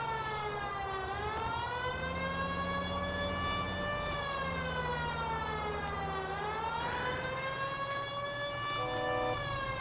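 Police car siren in the video game L.A. Noire, a loud wailing tone slowly rising and falling in long sweeps over a steady engine hum, continuous with no talk.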